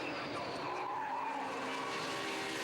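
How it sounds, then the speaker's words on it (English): A Radical race car's tyres squeal in a long, loud, wavering screech as it spins at Donington Park during a 2009 Radical UK Cup race, the engine droning underneath, no voices. "there's a squeal of tyres behind, and off goes Manhalalos"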